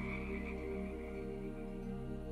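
Lively frogs croak in a small pond, a steady, dense chorus of repeated low croaks that carries on without pause, moderately quiet and with no voices.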